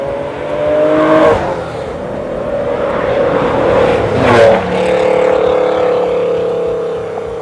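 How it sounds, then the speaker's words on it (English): A 1995 Acura NSX sports car engine revs loudly nearby, climbing and dropping in pitch through two distinct surges over a continuous engine drone. "I drive a 1995 Acura NSX."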